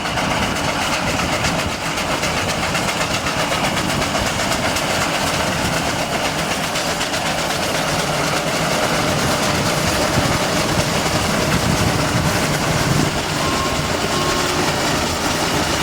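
A convoy of steam traction engines, including two Burrell-type Bowles and two McLarens, rolls past at a show with a steady, loud, dense rumble and clatter that fills the whole stretch without letup.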